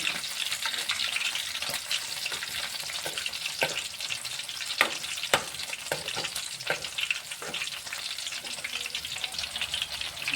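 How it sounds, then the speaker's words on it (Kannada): Fish fries with garlic and green chili in oil, giving a strong continuous sizzle broken by repeated scraping and stirring clicks from a spatula, heard close with no talking. "ನಾವು ಇದಕ್ಕೆ ಬೆಳ್ಳುಳ್ಳಿ ಹಸಿ ಮೆಣಸಿಕಾಯಿನ ಹಾಕಿ ಫ್ರೈ ಮಾಡ್ಕೊಳ್ಕೊತೀವಿ"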